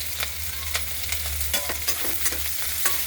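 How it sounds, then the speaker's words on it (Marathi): Onion and curry leaves fry in a pan with crushed garlic, a fairly quiet steady sizzle broken by repeated short stirring scrapes and taps, with no voices. "आता कांदा घालायचा, त्यासोबतच कढीपत्ता टाकला मी।"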